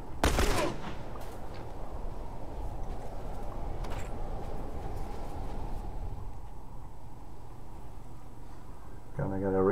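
Rapid bursts of gunfire from The Last of Us ring out through the clip. A loud crack opens it, followed by sustained shooting and clatter, and a voice can be heard briefly near the end.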